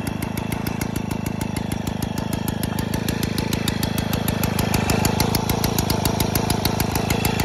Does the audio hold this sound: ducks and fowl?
no